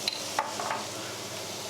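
Coriander and turmeric being stirred into saag aloo curry frying in a pan, a few soft scraping stir strokes over a steady close sizzle, no talking.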